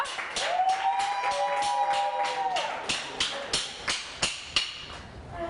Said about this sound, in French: Applaudissements pour Semefa.